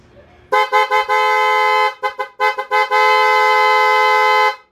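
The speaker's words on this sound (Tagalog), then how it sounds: "Busina tayo. Busina." A loud car horn honks in a rapid series of short toots, then holds one long sustained blast, close and clear with no talking.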